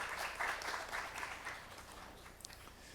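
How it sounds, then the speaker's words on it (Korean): An audience applauding to welcome a panelist at a Korean tourism panel talk, a steady spread of clapping that gradually thins out and fades. "박수로 환영해 주시기 바랍니다."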